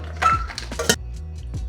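Custard mixture tipped from a bowl into a pot for rice pudding, a few clanks and clinks of dishware and utensil against the pot over under two seconds, fairly close, with no talk.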